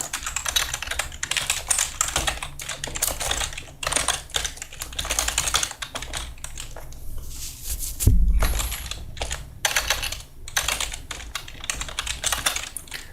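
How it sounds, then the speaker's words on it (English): Steady computer-keyboard typing while building exfiltration and command-and-control scripts in Python, with dense clicky keystrokes in bursts and brief pauses, close and fairly loud, and one heavier thump partway through. "I'm just typing what I see here."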